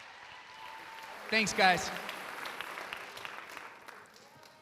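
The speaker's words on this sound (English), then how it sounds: "Let's give him a round of applause" Crowd applause for Leo the Lion, the Real Salt Lake mascot, at a Canyons School District teachers of the year event, a soft, moderately distant clapping that swells briefly, with someone speaking over it.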